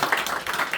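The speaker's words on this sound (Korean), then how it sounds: "우리 하나님께 영광의 박수를 올려드리겠습니다" A short burst of applause from a church congregation during a Sunday worship service, many hands clapping together in a dense, steady patter.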